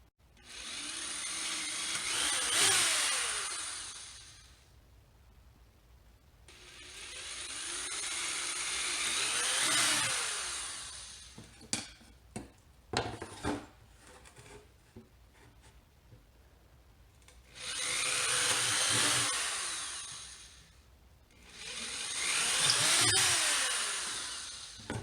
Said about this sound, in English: now we can start drilling.